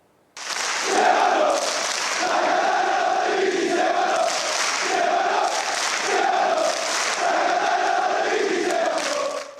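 Football supporters chant rhythmically and applaud in a big crowd at an open Catania training session at the Massimino stadium, a loud, steady wall of voices with repeated rising chant phrases.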